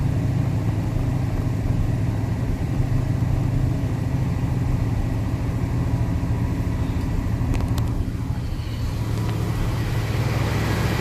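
A 1969 Lincoln Continental V8 idles steadily after a cold start, a smooth, even low rumble held close and loud throughout with no talking.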